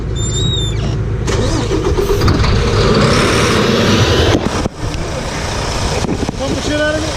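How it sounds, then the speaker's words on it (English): A car engine is cranked over, the starter grinding loudly and continuously for several seconds before the sound cuts briefly and resumes rough. A voice speaks over it. "Go ahead and crank it."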